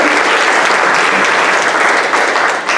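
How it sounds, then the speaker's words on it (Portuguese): A church congregation gives loud, sustained applause during a Thanksgiving service, the clapping dense and even throughout with no speech over it. "dá um forte aplauso a Ele pelo filho de Deus."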